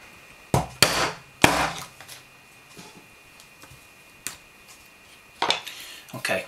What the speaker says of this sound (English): where I've marked the point there, I need to punch through